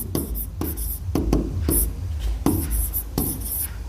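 Chalk or marker strokes on a board come in quick scratchy bursts, several short strokes in an uneven rhythm, close and fairly loud, with no talk over them.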